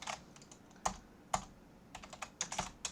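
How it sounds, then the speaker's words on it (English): Computer keyboard typed in short bursts of clicks, a few spaced keystrokes then a quicker cluster, close and moderately quiet. "So we can type hex dump"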